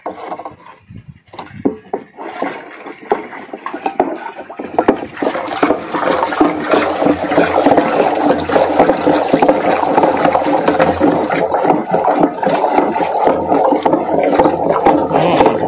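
Liquid fertilizer solution being stirred in water for melon growing, a steady sloshing, swirling churn that builds after a few scraping knocks and carries on loudly.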